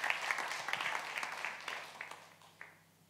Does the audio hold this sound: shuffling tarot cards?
no